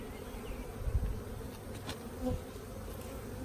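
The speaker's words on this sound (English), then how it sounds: "lots of bees" Honeybees swarm around an open hive frame during a nucleus colony install, a close, continuous buzzing drone with no voices.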